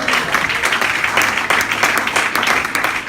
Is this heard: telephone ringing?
no